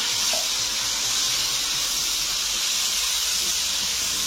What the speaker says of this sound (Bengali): হাফ চামচের কম হলুদ দিলাম, আর অল্প নুন দিয়ে একটু ভালো করে ভেজে নেব।